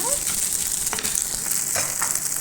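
Boiled chicken pieces fry in a hot pan with a steady, dense close-up sizzle and crackle throughout, broken by a few soft scraping stirs, with no talking.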